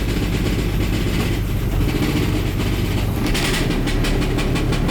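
A loose bolt rattles inside the engine of a 1965 Ford Mustang, a dense, continuous clatter over a loud running engine, with sharper rapid ticking toward the end.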